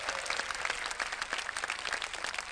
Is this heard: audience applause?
yes